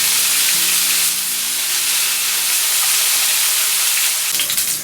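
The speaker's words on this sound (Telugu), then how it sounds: "లవంగాలు, బిర్యానీ ఆకు, పుదీనా వేసుకొని ఒక్కసారి కలపాలండి. ఇవన్నీ నూనెలో బాగా కలవాలండి." Cloves, bay leaf and mint fry in hot oil for Hyderabad-style ginger chicken. A loud, close, steady sizzling hiss runs throughout with no talking.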